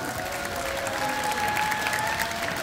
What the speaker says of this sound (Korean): 박수로 시작하겠습니다